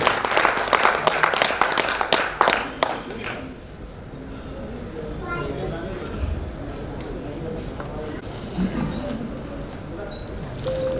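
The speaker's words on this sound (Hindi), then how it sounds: "जोरदार तालियों से स्वागत कीजिए" An audience at a Hindi kavi sammelan poetry gathering bursts into loud clapping for a poet, the applause fading after about three seconds into quieter hall murmur with scattered claps and voices.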